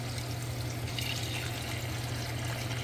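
Seafood broth poured into a pot of smoked Cajun seafood gumbo, making a steady, continuous liquid rush over a low, constant hum, with no talking.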